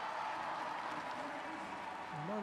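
Spectators at a London 2012 Paralympic track cycling individual C1 pursuit final keep up a loud, steady roar for a rider, a continuous wash of crowd noise with a rising whistle-like tone near the end.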